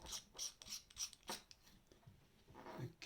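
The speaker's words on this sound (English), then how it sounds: "If I can just unscrew that" Plastic screw-on battery compartment of a BOYA BY-M1 lavalier microphone (LR44 cell) being unscrewed by hand: a series of short, close, faint rasping twists in a steady rhythm, then a softer rub and a small click, with no talking.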